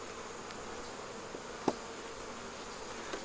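Honeybees drone in a steady, moderate hum around an opened hive, with a single louder bee passing close by partway through.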